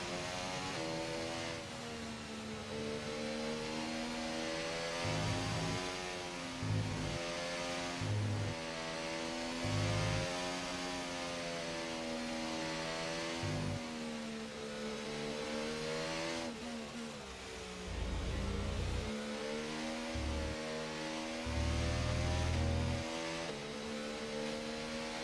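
An F1 car engine in the F1 24 video game revs for a practice start, a sustained high whine rising and dipping in pitch with intermittent low thumps, steady and close.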